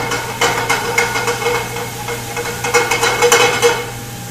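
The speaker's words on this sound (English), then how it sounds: "Shake it around, you hear the sizzling." Garlic sizzling in oil in a pan while it is shaken, a steady crackling hiss with clinks and scrapes of the pan throughout, close and fairly loud.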